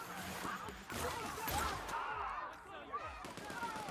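Gunfire while fighting enemies in The Outer Worlds, a string of faint, distant shots and bursts popping irregularly over background game ambience.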